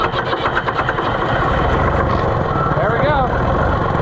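Neglected Oliver 1250-A tractor engine cranking and catching, a loud, rough, pulsing diesel chug that settles into steady running, close up, with a brief voice partway through.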